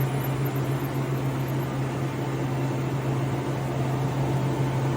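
A Kaiser 40 horsepower air compressor runs with a carbon-tower nitrogen generation system, a loud, steady industrial hum and broadband hiss filling the room with no change in level.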